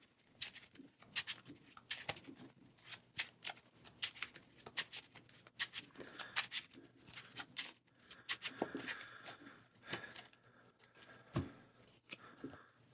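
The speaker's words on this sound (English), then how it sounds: "1 by 1, grab an encounter card and shuffle." Marvel Champions encounter cards being handled and shuffled one by one on a tabletop, a string of quiet papery flicks and riffles in uneven bursts, close and soft, with no talking.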